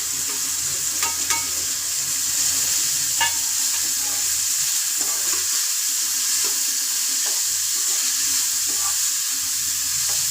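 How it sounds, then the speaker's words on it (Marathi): Three large finely chopped onions frying in plenty of oil for a homemade vegetable curry, giving a steady close sizzle with occasional stirring clicks and scrapes throughout. "कांदा व्यवस्थित भाजून घ्यायचा आहे"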